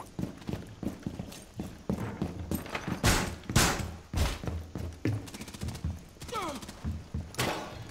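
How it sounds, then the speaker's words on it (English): Gunshots in Rainbow Six Siege, several sharp cracks and thuds scattered among footsteps and clattering game sounds, with brief voices in the background. "he just shot me, and then shot me in the face"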